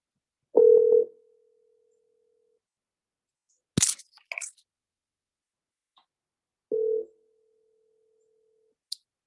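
Phone line tones while a call is placed: two steady mid-pitched beeps several seconds apart, each short and clear, with a brief clatter between them and no talking.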